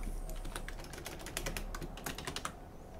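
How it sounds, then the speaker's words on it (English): Rapid typing on a computer keyboard, with dense, irregular key clicks running steadily for a few seconds, then stopping near the end. No one talks over it. "We're going to type sensor lock."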